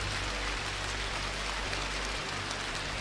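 Heavy rain pours on a hiking trail on Mount Sumbing in Java, a dense, steady hiss that fills the whole three seconds with no voices.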